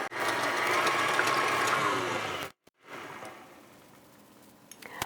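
An electric mixer beats cake batter for a Black Forest cake, a loud, even mechanical whir that cuts off abruptly midway, then gives way to quieter clinking and handling noises.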